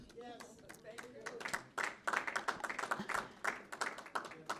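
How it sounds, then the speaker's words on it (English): An audience at a film screening claps steadily in a dense, continuous patter of many hands, moderately distant and fairly quiet, with some murmuring voices mixed in. "I think we should give her a big round of applause for that."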